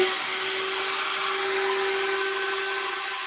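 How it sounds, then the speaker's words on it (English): VPI HW-16.5 record cleaning machine vacuuming a dirty, moldy vinyl record: a loud, steady suction roar with a constant motor hum, close and continuous throughout, with no talking. "So vacuum back on."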